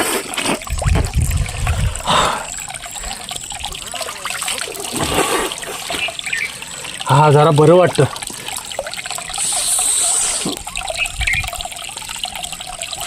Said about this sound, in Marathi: पूर्ण कातळावरून पाणी वाहत आहे